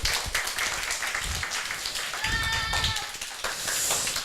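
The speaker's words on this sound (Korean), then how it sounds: "박수 한번 쳐주세요" An audience at a church Bible talk claps on request, a brief scattered patter of hands that rises and fades over a few seconds, with a voice speaking over it.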